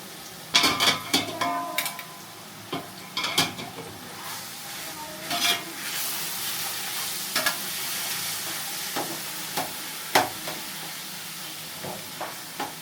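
A spoon scrapes and stirs through thick bottle gourd halwa in a large pot, with irregular scraping strokes and soft sizzling between them, close up and without talk.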